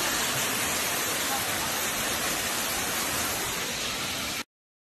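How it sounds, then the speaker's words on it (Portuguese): Steady, dense roar of a waterfall, loud and close and filling the whole stretch, then cutting off abruptly near the end. "Gente, eu acho lindo essa cachoeira aqui,"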